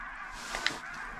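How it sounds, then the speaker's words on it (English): A large flock of geese honking in the Wyoming winter, brief overlapping calls with one sharper honk standing out against the open-air background. "It's a lot of geese."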